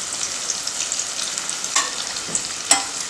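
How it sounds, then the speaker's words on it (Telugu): Potatoes frying in a pan with turmeric and chili powder for an Andhra-style aloo kurma: a steady, close sizzle with a few sharp stirring scrapes and clicks. "ఇది మనం ఒక 2 నిమిషాలు వేయించుకుందాం"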